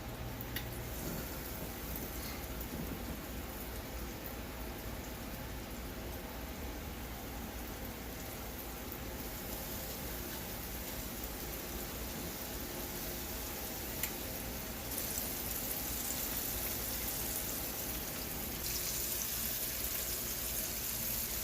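Flour-coated chicken pieces fry in hot oil, giving a steady, even crackling sizzle that holds for the whole stretch without speech.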